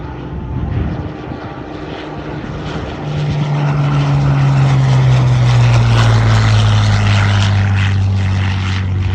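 Deep, throaty Merlin piston aircraft engine roars past at an air show, its drone swelling louder and dropping in pitch as it passes overhead.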